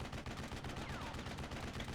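Weapons fire in the Steel Division Normandy 44 World War II strategy game during a tank battle. Rapid, dense bursts of gunfire crackle continuously over a rumbling battlefield roar, loud and unbroken.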